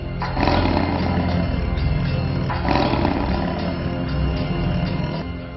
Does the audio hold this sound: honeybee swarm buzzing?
no